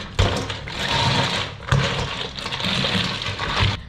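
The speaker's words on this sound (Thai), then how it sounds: "เราต้องล้างเขาให้สะอาดเลยนะคะ" Egg-bearing crabs are rinsed under loud, continuous running water before being pickled in fish sauce, with splashing and occasional soft knocks of shells against the basin.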